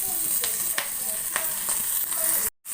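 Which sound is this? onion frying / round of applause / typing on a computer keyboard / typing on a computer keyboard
onion frying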